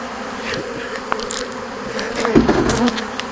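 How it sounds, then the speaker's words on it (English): A dense swarm of bees buzzes steadily and close, with a louder burst of buzzing near the end. "You see all these bees?"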